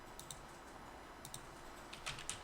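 Soft clicks of a computer keyboard being typed on, a few scattered light keystrokes at a steady low level with quiet background hiss and no speech.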